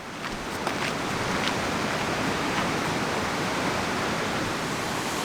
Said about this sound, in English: I think I can even hear the waterfall from here.